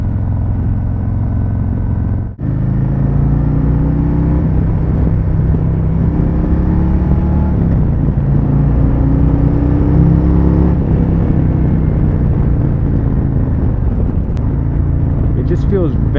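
A custom 2021 Harley-Davidson Road Glide Special cruises through Los Angeles with a loud, continuous low engine rumble and wind roar. The pitch drifts gently as it rides, and a voice is faintly present beneath it.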